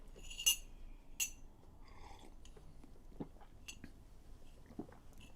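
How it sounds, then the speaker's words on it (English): Glasses clinking in a toast during a live-streamed concert: two bright chinks of glass close together near the start, followed by faint soft tapping and mouth sounds in a quiet room. "we can start out with a little toast, a little clinking"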